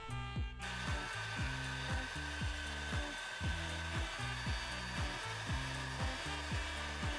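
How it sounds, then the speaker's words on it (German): Hair dryer heating vinyl wrap foil inside an Audi A4 B8 sedan or wagon, a steady loud whir with a regular, rhythmic pulsing undertone throughout. "musst du die Folie zusätzlich mit dem Föhn erhitzen."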